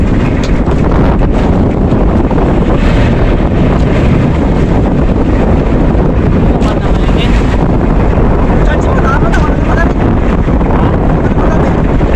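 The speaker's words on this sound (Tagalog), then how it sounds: "Lakas ang hangin." Strong wind roars steadily against the microphone throughout, a dense continuous buffeting with no pauses.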